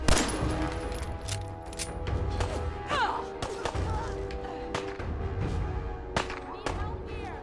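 Repeated gunfire from Fallout 4 combat, sharp shots and thuds scattered through the clip at irregular intervals over game music and a busy background, with someone talking throughout.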